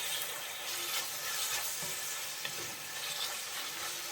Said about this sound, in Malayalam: ഇനി നന്നായിട്ട് എല്ലാം കൂടി ഒന്ന് വഴറ്റി കൊടുക്കാം.